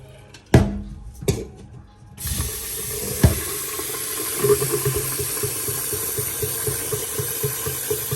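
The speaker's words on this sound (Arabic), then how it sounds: "هلا بحط عليها المي السخنة" Hot water poured over lentils in a kitchen to wash them, a few sharp knocks and clatters, then a steady running pour of water that continues loud and close to the end.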